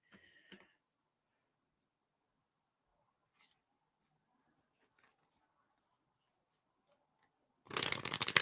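Tarot cards are handled, with a short papery flick at the start, near silence, then a loud burst of riffle-shuffling at the end.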